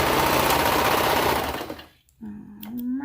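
Sewing machine stitching a curved seam on boys' pants makes a loud, continuous close whir that slows and cuts out after about two seconds, followed by a brief voice.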